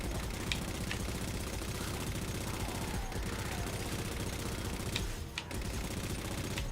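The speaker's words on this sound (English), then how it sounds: "Y'all about to get a machine gun to the face" Rapid machine gun fire in the Halo 4 campaign, a dense continuous rattle of shots heard fairly far back under a steady wash of game noise.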